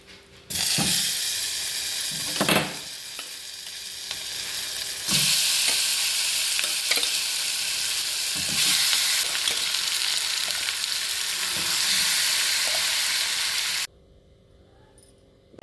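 Stuffed ivy gourds tipped into hot tempering oil with mustard seeds for a thondekai ennegai curry, producing a loud continuous sizzle with occasional clatters of stirring, cutting off abruptly near the end.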